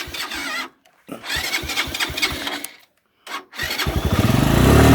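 A motorcycle engine is cranked in short bursts that cut out, then catches and revs up with a rising throaty putter, close by, with brief talk before it.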